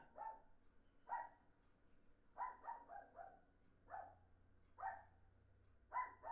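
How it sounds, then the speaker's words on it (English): A dog barks repeatedly at a distance, single and doubled barks spaced irregularly, fairly faint against a quiet background. "And there goes Chewy barking about it."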